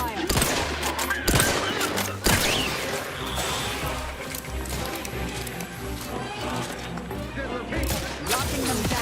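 Gunfire in The Outer Worlds video game: rapid bursts of automatic shots and sharp single blasts in a dense, loud firefight, with clanking mechanical sounds and game voices talking over it.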